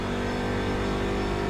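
A race car engine in the iRacing simulator holds a steady, loud, droning roar at partial throttle around 70 to 80 percent, with no variation in pitch.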